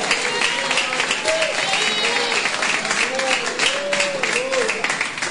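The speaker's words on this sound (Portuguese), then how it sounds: "E as palmas para Jesus." A church congregation claps for Jesus during a Portuguese-Spanish sermon, with steady dense applause filling the room under a continuing voice.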